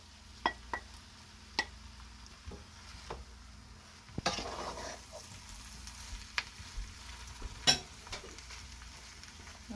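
Saltfish and tomatoes being stirred in a hot pan, a soft steady sizzle with scattered clicks and scrapes of the utensil against the pan, fairly quiet, no talking.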